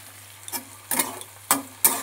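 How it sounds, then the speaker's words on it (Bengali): A spatula stirs chopped ginger and green chilli in a frying pan while cooking chilli chicken: four distinct scraping strokes, close and moderately loud, with a soft background hum between them. "এবার এগুলো একটুখানি নেড়ে চেড়ে নিই।"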